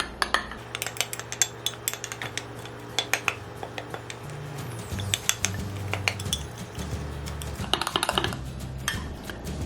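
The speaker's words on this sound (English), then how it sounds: "So I'm just gonna use a knife to mix it." A knife stirs brownie mug cake batter inside a mug, giving quick, irregular clinks and scrapes against the sides over a low steady hum, with no talking.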